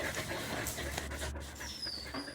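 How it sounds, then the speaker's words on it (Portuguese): A female dog pants indoors in quick, steady breaths, close and moderately loud, with a faint whimper-like tone near the end. "Já vou mostrar para ela que a cachorra tá bem."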